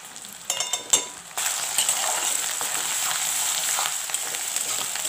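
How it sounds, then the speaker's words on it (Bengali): Spices including green chili, turmeric, cumin powder and red chili powder fry in hot oil for a cauliflower dish. A few spoon clinks lead into a steady, bright sizzle that holds close and loud. "মশলাটা ভালো করে ফ্রাই করে নিতে হবে।"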